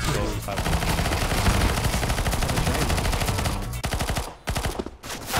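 Rapid automatic gunfire in a shooting video game, loud and nearly continuous bursts that fill the clip, with brief drops in intensity toward the end.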